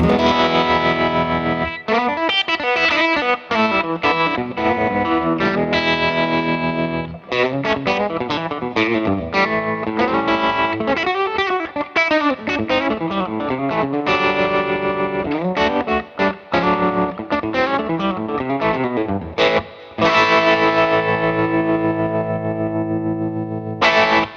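An electric guitar played through a Universal Audio pedal set to a choppy, classic Fender-style tremolo, its chords and lines pulsing rapidly on and off, loud and continuous with no talk.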